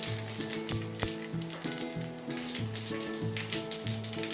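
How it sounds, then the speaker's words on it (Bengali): Cumin seeds and dried red chillies sizzle steadily in hot oil for tempering, a close, continuous crackle with faint clinks and mechanical rattles underneath. "প্রথমে জিরে আর শুকনো লঙ্কা দিলাম বেশ কিছুটা"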